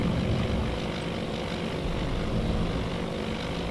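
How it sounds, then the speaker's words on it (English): Propeller-driven dive bombers in a naval war game sweep in as a dense, steady engine drone, loud and continuous with no talk over it. "There's a whole big clump of dive bombers coming in from Yorktown."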